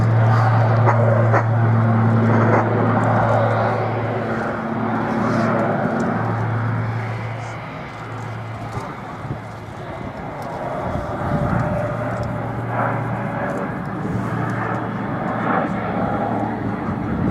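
An Airbus A400M military transport, a large propeller aircraft, drones loudly overhead in an airshow flying display, its engines holding a steady low hum that fades slightly and returns, with a dog barking faintly.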